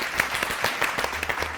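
Brief burst of studio audience applause on a talk show, a small group clapping in quick, slightly uneven beats for under two seconds.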